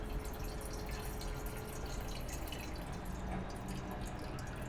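Water runs and drips steadily, like a tap filling a glass, a continuous close splashing with no voices.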